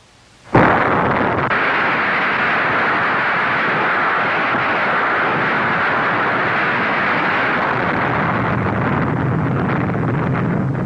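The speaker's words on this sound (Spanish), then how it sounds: "se hizo estallar la primera bomba de hidrógeno" Archival film of the first hydrogen bomb detonation over the Pacific in 1952, a sudden loud blast followed by a sustained, dense roar and rumble that holds steady for about ten seconds with wind-like noise.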